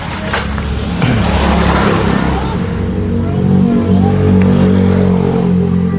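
A Honda Vario 125 scooter, first-generation KZR series, with low-rpm power loss and stuttering, revs close by: loud, rough engine drone that climbs in pitch around the one-second mark and again near the three-and-a-half-second mark.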